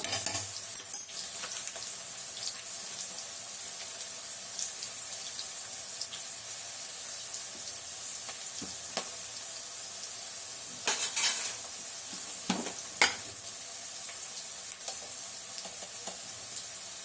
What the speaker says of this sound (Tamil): காய் நல்லா வதங்குதுங்களா, பாருங்க.